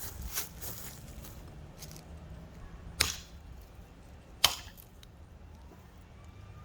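A Firekeeper Forge Yeti knife by Sam Farnsworth chopping a coconut: three sharp, distinct whacks spaced a second or more apart, fairly close, over a quiet background hum.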